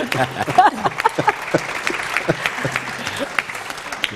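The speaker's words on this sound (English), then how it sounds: "Can we have a round of applause?" Audience applause after a talk on biodiversity, a moderate scattered clapping from a room of people lasting several seconds, with a few faint voices mixed in.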